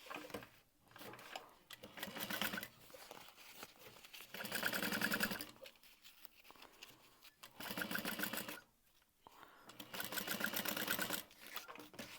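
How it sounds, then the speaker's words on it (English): A sewing machine back stitches along the edge of a fabric bag, its needle whirring in several rapid bursts separated by short pauses, close and clear with no voices. "I'm going to fold up the edge that we're turning the bag through and back stitch."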